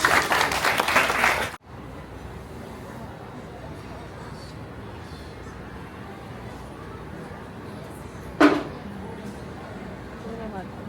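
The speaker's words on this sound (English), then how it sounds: "Let's give Catherine a big round of applause." Brief burst of audience applause for a glassblower named Catherine at a glass-making demonstration, loud for under two seconds then cutting off abruptly, followed by quiet room tone and a single sharp tap later.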